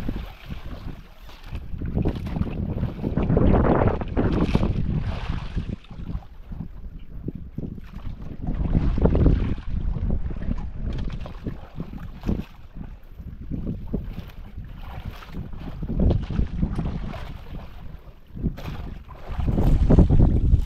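Steady wind gusts buffet the microphone out on open water, rising and falling in long surges with a low rumbling roar.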